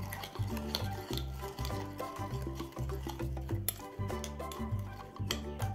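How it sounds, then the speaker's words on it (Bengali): A spoon stirs briskly through turmeric and a little water in a pan, scraping and clinking in a steady rhythm, close and fairly loud with no one speaking. "সামান্য জল চামচ দিয়ে এটা খুব ভালো করে নেড়ে নেব"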